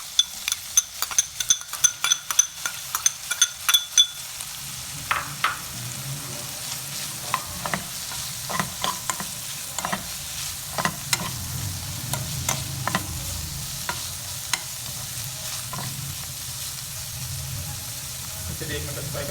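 Capsicum fries in a pan for a chicken vegetable bread roll filling, a soft sizzle under quick clattering taps and scrapes of a spatula against the pan, the stirring busy at first and then sparser.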